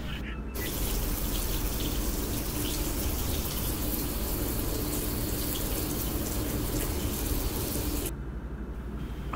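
Steady gush of water from a tap runs loud and close for most of the stretch as someone washes their hands at a sink in a home, stopping abruptly near the end.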